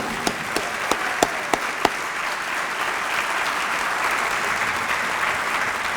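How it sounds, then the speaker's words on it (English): An audience at a Tatnall School eighth-grade moving-up ceremony applauding its advisors: a few sharp early claps grow into steady, full applause from a large crowd. "Let's give those advisors a huge round of applause."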